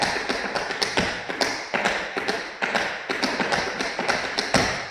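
Tap shoes strike a hard floor in a steady run of flap steps danced in place, a rapid, even stream of crisp, close clicks and scuffs with an accent on every second sound.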